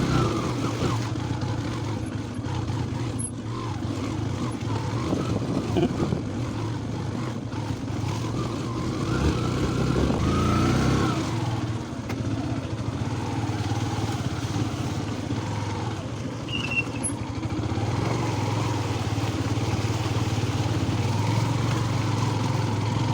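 A motorcycle rides a winding mountain road, its engine a steady droning hum that swells and eases with throttle changes, with wind rumble over the whole stretch and no voices.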